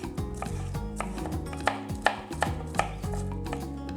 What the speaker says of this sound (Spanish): Y mientras voy a trocear bien pequeñitos 50 gramos de pimiento morrón